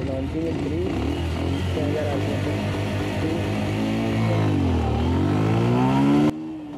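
A 2022 Bajaj Pulsar 125 motorcycle being ridden on a highway, its engine droning steadily and loudly up close, pitch dipping then climbing as it shifts and accelerates, with wind rush and a voice talking over it.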